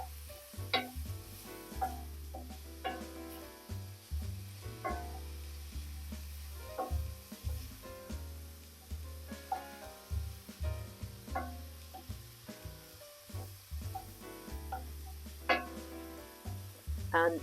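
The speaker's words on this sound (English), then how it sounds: "give that a good stir" Beetroot stirred into a spring garden risotto in a pan, with steady sizzling and the scrape of a spoon against the pan over a continuous tonal background, with no voices.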